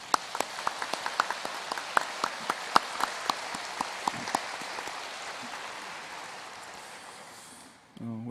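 A church congregation at a Sunday evening service applauds a pastor. Sharp, separate claps ring out early, then blend into a softer, dense patter that gradually fades before a brief noisy stir at the close.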